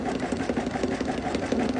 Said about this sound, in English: I slowed my machine down to the slowest setting as it joins all these layers together